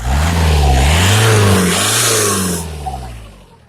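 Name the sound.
VW Golf 4 1.9 TDI engine accelerating with a noise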